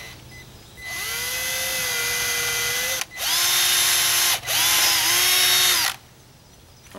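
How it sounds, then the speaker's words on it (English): A power drill bores a 1/4 inch hitch-pin hole near the end of a lure retriever, whining loudly and steadily in three long runs separated by brief pauses, close up with no talk. "I'm gonna drill another 1/4 inch hole from a hitch pin."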